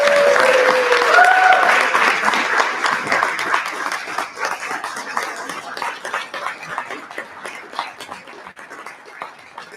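Rotary Club of Tyler meeting crowd applauding RYLA student recipients, loud sustained clapping that gradually tapers and thins, with a brief whistle-like tone near the start.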